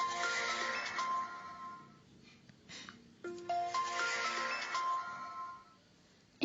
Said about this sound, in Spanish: Este es el que suena cuando un Samsung prende.